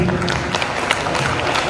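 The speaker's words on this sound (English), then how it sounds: "a huge round of applause for ma'am, please" An audience at an award ceremony claps for a teacher called up to the dais, a short burst of moderately loud, dense applause with a noisy room hum beneath it.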